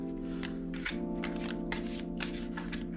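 Tarot cards riffle and slide in repeated shuffling bursts, close up over a steady low hum, with no talking.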